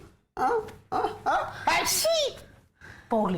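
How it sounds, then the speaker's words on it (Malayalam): A single sneeze bursts out amid a child's whiny vocalizations and short spoken phrases. "തുമ്മലൊരെണ്ണം പോയി"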